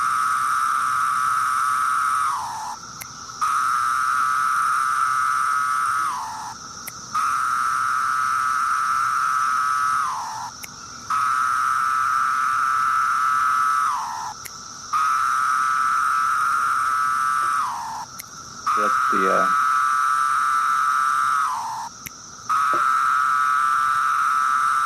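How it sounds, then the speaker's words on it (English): A recording of a Pharaoh cicada plays a loud, steady droning call in repeated phrases of about three seconds, each ending in a brief downward slur and separated by short gaps. "That one is called the Pharaoh cicada for obvious reasons."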